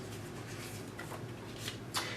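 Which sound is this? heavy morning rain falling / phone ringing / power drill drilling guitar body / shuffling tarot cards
shuffling tarot cards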